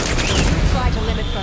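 Dense, rapid bursts of gunfire from The Outer Worlds 2 crackle loudly in a short volley, with a faint game voice mixed underneath.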